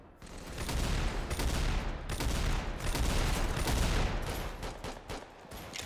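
Repeated pistol shots in the Roblox video game fire in quick, loud bursts that carry on almost the whole time with short gaps between volleys.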